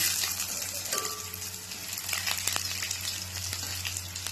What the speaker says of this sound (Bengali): তেজপাতা দিয়ে দিলাম, শুকনো লঙ্কা, মাটনের তেলের মধ্যে দিলাম আদা কুচি